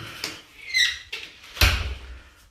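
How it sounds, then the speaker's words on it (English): A bathroom door swings shut in a quiet home, with a couple of soft creaks and rustles before one firm close-range thump near the end. "let me close this door"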